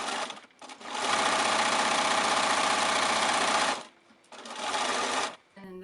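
A sewing machine stitching a half-inch seam on a tote bag, a loud, rapid mechanical whir running for nearly three seconds, pausing, then a second shorter run, close up.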